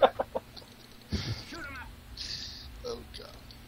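Chicken courier in the Dota 2 video game clucks in a few quick bursts at the start, followed by game sound effects and chatter-like noise.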